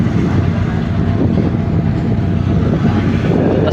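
Low, steady rumble of a passing ship, the Starlight ferry from Mindoro, a continuous heavy engine drone heard from the water with no talk.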